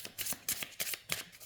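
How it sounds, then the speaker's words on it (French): Oracle cards are shuffled by hand in a quick series of crisp riffling flicks, close and soft, with no talking. "les cartes se mélangent super bien."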